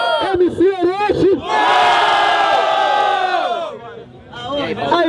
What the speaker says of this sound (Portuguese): Barulho quem gostou da rima do MC Johnny